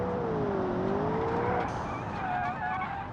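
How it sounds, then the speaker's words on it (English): A supercar with a wild engine in the video game Automation howls at high revs on a canyon road, the pitch sweeping down and rising again, with tyre squeal steady throughout. "Got the wild engine"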